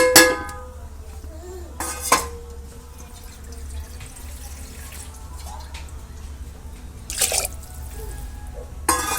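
Water poured into a pressure cooker holding dal and rice for masala khichdi, made from leftover chutney water, with a few splashy pours and drips standing out against a steady low background hum.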